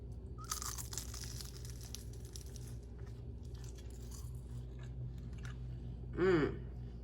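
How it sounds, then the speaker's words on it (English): Someone bites and chews crispy homemade baklava, with close, crackly crunches and soft mouth sounds over several seconds, ending in a short vocal murmur of enjoyment. "golden, syrupy, delicious slice of homemade baklava. Shall we give it a taste?"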